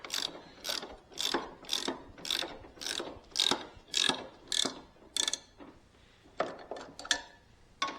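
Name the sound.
ratchet tightening a bolt on lawn mower lap bars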